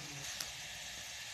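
Onions sizzle as they fry in a pan while cooking mustard greens, a faint, steady hiss with no talk.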